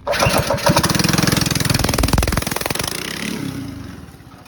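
A Predator small engine with its stock carburetor, choke on, catches and runs at once, then idles with a loud, rapid, steady put-put that slowly fades near the end.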